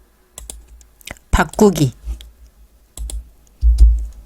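Computer keyboard typing during a word-processing exercise in an IT skills contest: scattered single key clicks and a few heavier taps, close and fairly loud, mixed with a person speaking.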